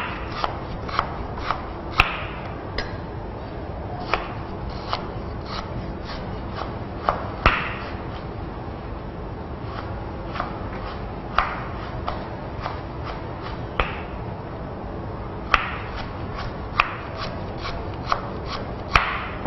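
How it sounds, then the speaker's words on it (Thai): A knife roughly chops lemongrass on a cutting board, giving steady, close, crisp knocks every second or so, sometimes in quick doubles, with soft shuffling between strokes and no voices. "เราก็หั่นหยาบๆนะคะ"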